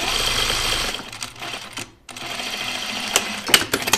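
A close, loud sewing machine runs a cover stitch in rapid mechanical bursts, stopping briefly in the middle before starting up again with uneven clatter.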